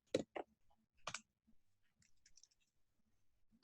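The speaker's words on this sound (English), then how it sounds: "I hate typing when people are watching." Scattered keystrokes on a computer keyboard, a few sharp close clicks early then lighter irregular taps spread out with pauses, quiet and alone without talking.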